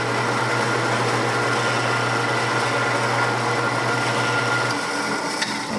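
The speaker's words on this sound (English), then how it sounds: "I'm gonna go drill a quick hole on the drill press" A drill press runs with a steady, loud whir for several seconds while drilling a hole, then the motor hum drops away near the end.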